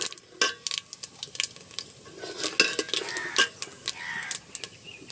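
Whole cumin and bay leaves are stirred in hot oil in a cooking pot, with a spoon scraping and clinking against the metal in irregular close strokes over a soft sizzle.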